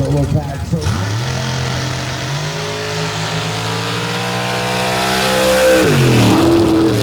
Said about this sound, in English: Latham out of Parkview, Iowa now, 632 cubic inch Chevy big block single carb.